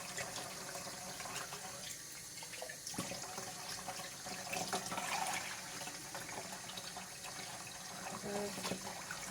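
Water runs steadily as phalaenopsis orchid seedlings are rinsed out of a flask, a close, continuous splashing and trickling with small clinks and a faint voice underneath.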